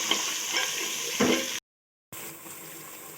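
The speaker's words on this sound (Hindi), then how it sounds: "अब गोश्त को डाल के हम फ्राई कर रहे हैं।" Beef pieces fry in a pan for a nihari, a steady broadband sizzle with a few stirring scrapes, cut by a half-second gap of silence before the sizzling resumes.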